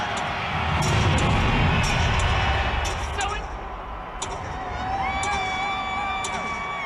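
New Year's Eve crowd packed into Times Square as the ball drops, a broad murmuring roar with scattered cheers and whistles swelling and dipping, sharp bangs near the start and a few shrill tones rising late.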